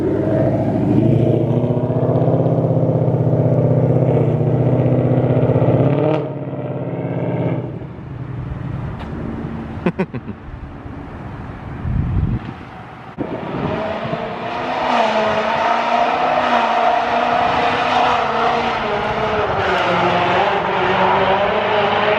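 A supercharged 2018 Ford Mustang GT with a VMP Odin kit is driven hard. The engine roars close and loud, rising and falling through revs and gear changes, with a brief lull midway before it pulls strongly again.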